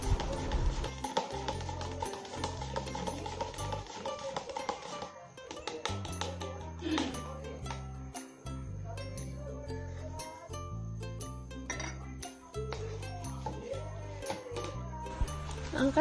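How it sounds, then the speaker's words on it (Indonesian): A spoon stirs a mixture in a glass, making rapid tinkling and ticking clinks against the glass that continue throughout over a low background hum. "Lalu diaduk hingga semuanya tercampur."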